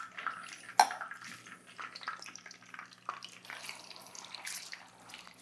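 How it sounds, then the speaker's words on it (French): Sausage meat wrapped around a quail egg for a Scotch egg fries in a pan of oil, giving a faint, sparse crackle of small pops and sizzles with no talking. "On entend un petit crépitement."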